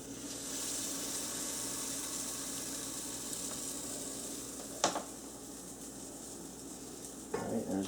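Blackberry pancake batter sizzles in a hot pan with a steady, faint frying hiss, broken by a sharp clink or scrape near the middle and another bump at the end.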